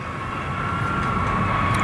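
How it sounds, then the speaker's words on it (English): A B-52 bomber, a 1950s-built airplane, roars steadily overhead during 2003 strike operations on Iraq, a continuous loud jet engine drone with a sustained whine and no pauses. "That's an airplane that's been around a while."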